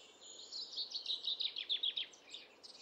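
Bird calling in Ireland, a quick series of high, bright chirping notes in a rapid run lasting about two seconds and then tapering off, close and clear above a quiet background.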